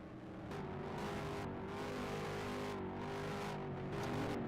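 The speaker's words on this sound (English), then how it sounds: "drivers, to your car, start your motors" Race car engines drone and rev together in a steady, loud mechanical roar at a Sebring ROX Mod feature, with the pitch rising and falling slightly and no voices over it.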